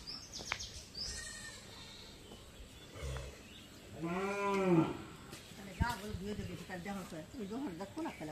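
A sick village cow, feverish and shivering after a change in weather, lets out one long, drawn-out moo close by, amid scattered rustling and people talking nearby.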